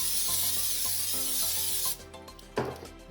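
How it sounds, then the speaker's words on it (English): Olive oil sprays in a continuous close hiss for about two seconds into an air fryer, then stops, leaving a brief quieter rustle and a sharp handling knock. "So first thing what we're gonna do is spray some olive oil."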